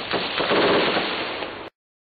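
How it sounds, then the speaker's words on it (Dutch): German troops return fire in Prizren, Kosovo: a dense burst of gunfire crackles loudly and continuously for under two seconds, then stops dead into silence. "Ze schoten terug, onder meer op een personenwagen,"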